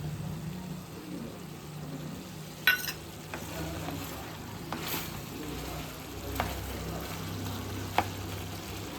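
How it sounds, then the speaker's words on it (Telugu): Oil frying for a mutton and chicken curry: a steady, soft sizzle throughout, with a few sharp clinks of a utensil against the pan. "ఆయిల్ వేసి బాగా వేయించాలి"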